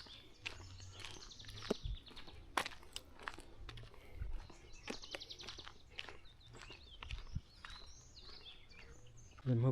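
Birds chirp faintly around a Kenyan village, scattered short tweets and calls coming from a distance amid quiet outdoor ambience, with a few light knocks and rustles nearby.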